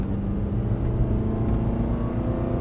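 An Aston Martin on a race track drives with a steady, close engine drone and a low mechanical rumble throughout. There is no talking.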